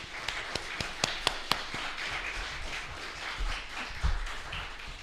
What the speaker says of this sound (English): Can we have a great big round of applause for the musicians and Rev Jim and Rev Stephanie?